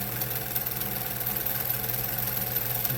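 A 1950s German Pfaff 130 sewing machine runs at full speed with a continuous fast mechanical whir and hum, steady and close with no pauses.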